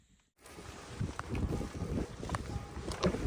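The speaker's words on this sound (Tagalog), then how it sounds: "Tapos may hangin pa." Wind gusts roar and buffet a microphone outdoors on a snowy, freezing winter day in Germany, a steady broadband rush that swells and dips in bursts for a few seconds after a brief quiet start.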